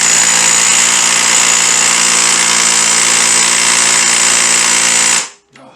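An impact gun hammers at a stubborn nut on a Kawasaki GPz motorcycle project, a loud, continuous rattling burst lasting about five seconds before cutting off abruptly.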